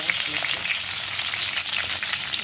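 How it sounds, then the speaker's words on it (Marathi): Stuffed brinjals being sautéed in oil with black masala, giving a dense, continuous crackling sizzle that stays loud and even throughout, with no talking. "चांगले परतून घ्यायचे"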